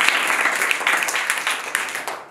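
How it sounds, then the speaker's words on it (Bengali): A classroom of primary-school children claps together in a short, dense burst of applause that fades out after about two seconds. "হাততালি।"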